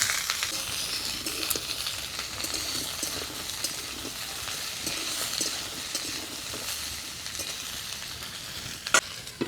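Radish, eggplant and potato sizzle steadily in a pan after onions, a continuous close frying hiss with occasional stirring clicks and a sharp utensil knock near the end.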